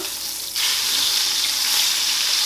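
Meat in a frying pan breaks into loud, steady sizzling right after being flipped, a quiet hiss jumping to a dense, close crackle that holds with no talk.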